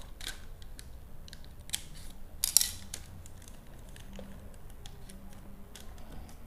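Fabric being snipped with scissors up to a dart while sewing a turtleneck, soft crisp cuts spaced irregularly over quiet room tone, one sharper snip standing out.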